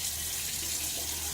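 Water runs steadily from a bathroom tap before a wet shave with a RazoRock Mamba safety razor, a close, even hiss with no talk.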